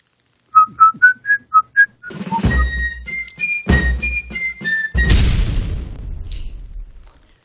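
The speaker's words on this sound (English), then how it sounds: "I like the whistles." A series of short whistled notes, then a louder whistled melody rising and falling over deep booming thuds and a final crashing blast that fades out.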